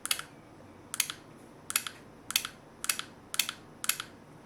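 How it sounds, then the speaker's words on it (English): A mechanical relay inside a smart voltage protection module clicks sharply seven times at a steady, roughly half-second rhythm, close up and crisp against quiet background hiss. "it has an actual relay inside, mechanical relay. So you can hear it. If I power this on, it clicks."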